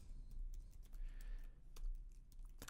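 Typing on a computer keyboard, soft quick key clicks in an irregular run, close and faint in a quiet room with no talk.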